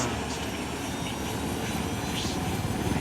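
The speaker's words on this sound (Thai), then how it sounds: "ใช่แล้วเฮลิคอปเตอร์ที่เราต้องการเลยตัวนี้" Helicopter in the video game Ghost Recon Wildlands, a continuous rotor and engine rumble filling the whole stretch at steady loudness.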